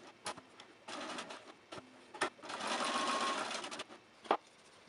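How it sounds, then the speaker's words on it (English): Sewing machine stitching a rectangle 1/8 inch from the edge of a fabric belt for a Bo Peep costume, running in several short bursts and one longer steady stretch, with brief pauses between, close and moderately loud. "you are going to sew a rectangle and follow each line 1/8 inch from the edge"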